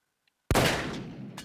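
A single loud AK rifle shot in the Paint the Town Red video game cracks after a near-silent moment, then its echo fades over the next second.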